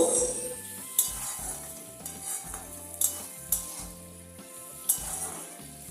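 Grated ginger and chopped green chilli stirred into onion and garlic frying in a pan, with a steady sizzle, scraping strokes and a few sharp metal clinks of the spoon against the pot.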